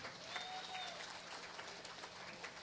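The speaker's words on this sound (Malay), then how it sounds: "Penat nak tepuk tangan." A crowd claps steadily at a Malaysian political rally, a dense, even wash of applause heard at moderate distance with no pauses.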